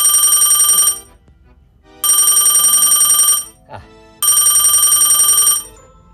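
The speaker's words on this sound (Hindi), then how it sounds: "ओ फोन आ गया है" A telephone bell rings loudly in three long bursts separated by short pauses, with a brief faint noise in one gap.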